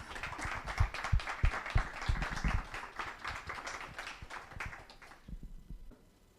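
An audience claps in a brisk burst of close, distinct hand claps that thins out and fades to near silence in the final second.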